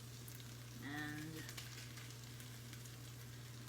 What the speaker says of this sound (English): I hear it's sizzling, burning a little